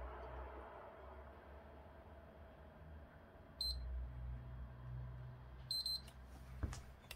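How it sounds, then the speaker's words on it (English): Two short, high electronic beeps from a PlayStation 3 console ring out in quick succession, followed a moment later by another brief pair, over a quiet room with faint handling noise. "do it again until you hear the double beep"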